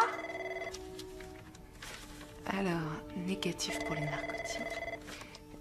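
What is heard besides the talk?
telephone ringing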